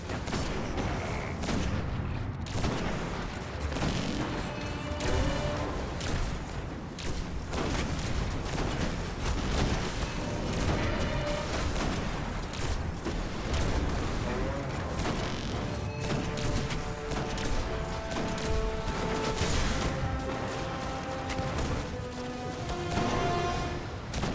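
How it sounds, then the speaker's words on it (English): Rapid sniper rifle fire from the Ex Machina and Event Horizon weapons in the Destiny video game, a dense, relentless barrage of sharp shots and booms over about twenty-four seconds with scarcely a pause. "the Ex Machina outputs way more shots in a shorter amount of time compared to the Event Horizon"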